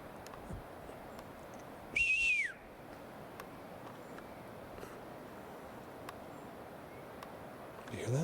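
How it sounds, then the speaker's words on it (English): Whistling outdoors: a single sharp, rising-and-falling whistle rings out clearly for about half a second over quiet background noise, with a faint low sweep near the end. "There's literally whistling going on."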